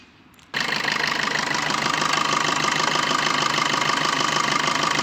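A 2016 Maruti Suzuki Swift Dzire VDI diesel engine starts up and settles into a loud, steady idle with a rapid clattering diesel knock, heard up close with no talk.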